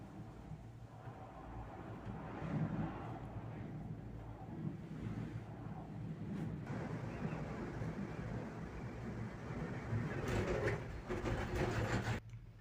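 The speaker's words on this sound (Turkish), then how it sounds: "Rüzgar var." Gusty wind buffets the microphone outdoors on Uludağ mountain in Bursa, a rumbling, blustery roar that rises and falls, strongest near the end.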